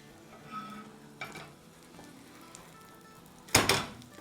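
Egg paratha cooking in a pan after being flipped, giving a faint, steady sizzle with small scrapes and one sharp, loud clatter near the end.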